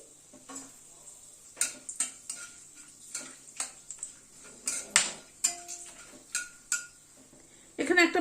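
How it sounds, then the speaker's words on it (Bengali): Bay leaves and peppercorns crackle in hot oil over a low gas flame while mutton curry is being made. Scattered sharp pops and light clinks break irregularly over a faint hiss, close and fairly quiet. "গ্যাসের ফ্লেমটাকে একদম কমিয়ে দিয়ে ফোড়নটাকে একটু ক্র্যাক করিয়ে নিচ্ছি।"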